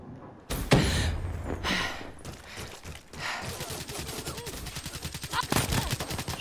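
Rapid gunfire in the Call of Duty Black Ops III beta while swimming and shooting, with dense bursts of automatic fire and sharp reports rattling continuously at close range.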